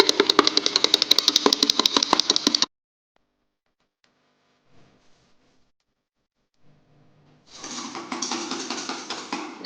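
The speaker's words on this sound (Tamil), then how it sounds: "இதை மறுபடியும் நம்ம நல்லா விஸ்க் வச்சு நல்லா ஒரு வாட்டி நம்ம பீட் பண்ணிக்கலாம்." Whipping cream beaten with a whisk for a sponge vanilla cake, heard as loud rapid rattling strokes, then a quiet pause with faint clinks, then the vigorous beating resumes.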